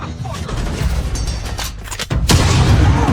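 Film gunfire in a heist scene, with a sharp loud crack just past two seconds followed by dense rumbling, booming reverberation over a busy soundtrack, with voices faintly mixed in.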